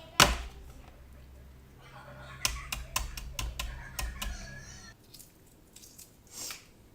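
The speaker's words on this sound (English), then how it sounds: "Now I have to peel them and cut them up." Shells cracking and being peeled off hot boiled eggs for a tuna salad, heard as a quick run of sharp, close clicks and taps, then softer rustling and quieter handling.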